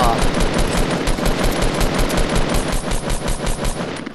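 Rapid automatic assault rifle fire in the video game Fortnite, a dense, loud stream of shots repeating evenly and without a break.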